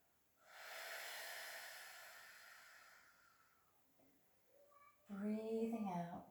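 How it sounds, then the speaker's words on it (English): During an exercise session, a long, soft, breathy exhale hisses for a few seconds and then tapers off. A voice follows shortly after. "Breathing out."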